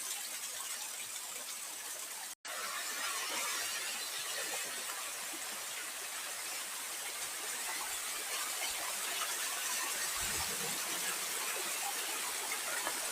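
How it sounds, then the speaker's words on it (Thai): Water spills steadily down a small waterfall of many low rock tiers at Ang Chang Nam falls, a continuous close rushing wash with no talk and only a brief dropout near the start. "มันจะมีน้ำตก แบบ ชั้นเล็กๆหลายๆชั้นลดหลั่นกันลงไป"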